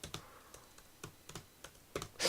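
Shortcut keys pressed on a computer keyboard, a handful of light, separate clicks spaced irregularly, with a louder rustle at the end and no voice over them.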